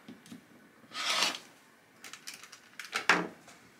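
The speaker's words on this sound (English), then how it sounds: "I am going to cut right on that line we drew." Scissors cut through quilt fabric along a drawn line, giving a few short rasping snips and a longer cut, close and fairly quiet with no talking.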